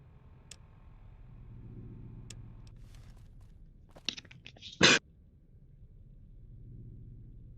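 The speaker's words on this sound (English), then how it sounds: "Sorry about that. Had to sneeze." A single sharp, loud sneeze bursts out midway, preceded by a short intake of breath, over a low steady rumble of background noise.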